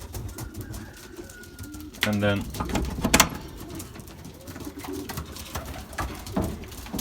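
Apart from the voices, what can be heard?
Belgian racing pigeons cooing after arriving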